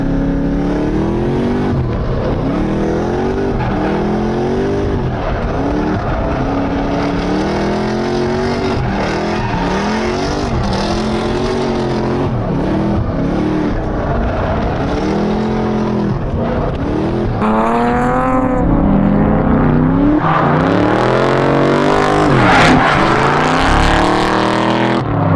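A 7.3-litre Godzilla V8 Mustang drift car runs laps, its engine revving and rising and falling in pitch continuously, growing louder near the end as it passes close.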